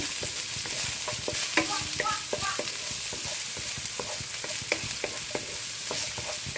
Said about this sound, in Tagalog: igigisa ko muna yung bawang. And then, sibuyas. Gisa-gisa lang.